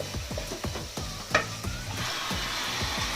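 Browned minced meat sizzles steadily in a pan for Tokat-style tirit, with rhythmic scraping and stirring strokes and a brief louder splash of water hitting the hot meat partway through; no talking.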